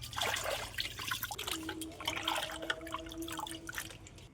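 Cut potatoes are rinsed by hand in a basin of water, with gentle sloshing, dripping and trickling close by. The sound stays soft and steady throughout.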